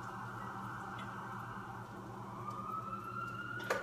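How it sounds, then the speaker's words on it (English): Emergency vehicle sirens in New York City wail faintly in the distance, a thin rising and falling tone over a low, steady background hum. "We got sirens in the background."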